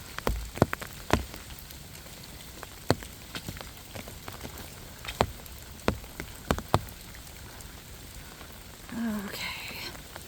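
Rain at a campground in MacKerricher State Park, heard as scattered sharp drips and patters over a steady soft wash, with a brief murmur near the end.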